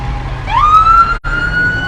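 A fire engine from the MacArthur Fire Department, engine 2409, sounds its siren in the Vinton County Wild Turkey Festival parade: a loud, close rising wail that holds steady, cuts out briefly, then resumes.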